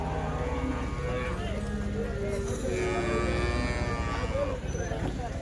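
Busy outdoor cattle market at Chalisgaon, Maharashtra, with HF and Jersey cows lowing amid a constant crowd murmur, with people talking throughout.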